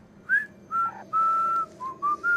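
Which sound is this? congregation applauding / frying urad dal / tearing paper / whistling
whistling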